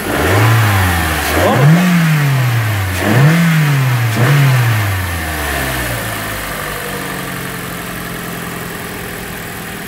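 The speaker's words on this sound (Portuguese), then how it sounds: "Pode ligar. Dá uma aceleradinha aí, acelera." Toyota Corolla engine after an engine swap revs in four sharp blips, then settles into a steady idle, loud and close, with a brief voice at the start.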